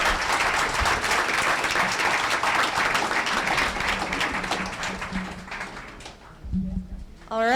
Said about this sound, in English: let's also have a round of applause for our 3 trend-setting investors.